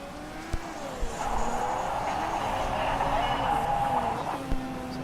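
Race cars in the Motorsport Manager racing game drive past the finish line, a steady engine drone with shifting pitch continuing under quiet talk.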